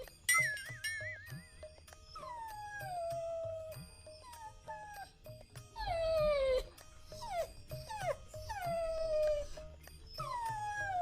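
A dog whimpers and howls in repeated bouts, with high whining glides that fall in pitch, some longer wavering howls and brief pauses between cries, close and fairly clear.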